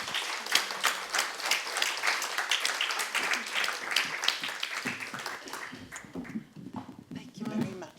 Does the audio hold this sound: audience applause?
yes